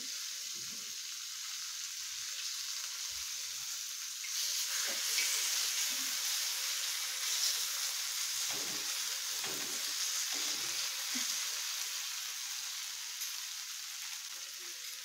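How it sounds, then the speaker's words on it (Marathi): Butter and pav bhaji masala sizzle on a hot tawa with a continuous bright hiss and a few soft scraping touches, close and steady throughout. "इथे तवा गरम करून घेतला आहे, त्याच्यामध्ये मी बटर घालते आणि हा जो मसाला ठेवला होता मी तो घालणार आहे"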